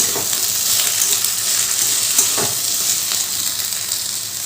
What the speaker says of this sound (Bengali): লাউয়ের খোসাগুলো এবার দিয়ে দিলাম এক চামচ নুন দিয়ে সব কিছু খুব ভালো করে ভাজতে হবে